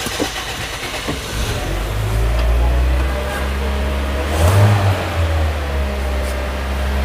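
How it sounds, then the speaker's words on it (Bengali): A used Toyota X Corolla engine turns over and runs with a steady low rumble, swelling briefly as it revs, close and loud. "গাড়ির ইঞ্জিনের সাউন্ডটা দেখানোর জন্য আপনাকে স্টার্ট দিয়ে দিলাম"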